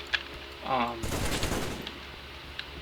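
Gunfire in Halo 3 against a Chieftain miniboss: a dense burst of shots fills the middle of the clip after a short spoken phrase, with scattered fainter impacts trailing off.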